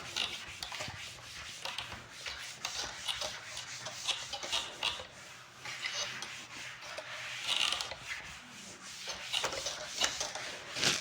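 A duster or hand rubs writing off a classroom board, making repeated close scraping and rasping strokes in an uneven rhythm, with no talking over them.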